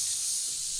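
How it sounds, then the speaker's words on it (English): A can of fizzy pop is opened on stage at a family comedy show: a short, steady, bright hiss of escaping gas, close and fairly loud, with no talk over it. "I'm just going to open this can of fizzy pop"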